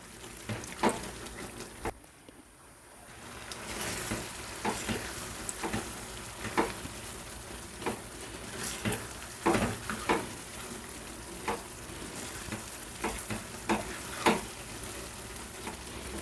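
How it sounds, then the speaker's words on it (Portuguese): Mushroom risotto with cream and parmesan being stirred in a pan, a soft bubbling sizzle punctuated by repeated spoon scrapes and clicks, fairly quiet and close, with a brief lull near the start. "colocar o creme de leite e por último o parmesão e misturar com meus cogumelos"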